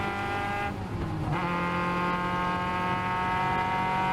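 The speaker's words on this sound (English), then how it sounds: "You can actually hear he's on the rev limiter." A Caterham race car's engine holds a high, buzzing tone at the rev limiter during a 2021 Pacific Northwest race, a steady, strident harmonic whine with a brief dip as the car drafts, heard from inside the cockpit.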